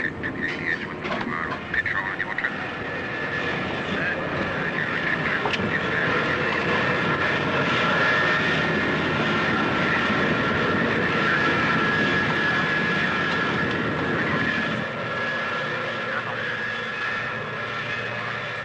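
A Concorde prototype's jet engines roar in reheat, a loud, sustained, rumbling thunder with a steady high whine, heard continuously and alone throughout.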